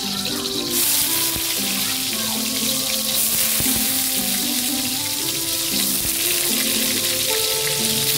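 Garlic and onion sizzle in hot oil in a pan, a steady close crackle and hiss broken by occasional clinks of a utensil stirring, with no talk.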